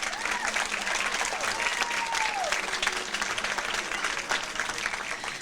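Steady applause from a farewell ceremony audience for a performer, a dense even crowd clapping that fills the whole stretch without letting up.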